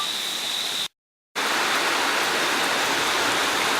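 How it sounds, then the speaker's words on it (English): Heavy rain during Hurricane Harvey in Houston, a steady loud broadband hiss that cuts out briefly near the start and then returns just as strong, with no voices. "Rain is starting to pick up a bit more."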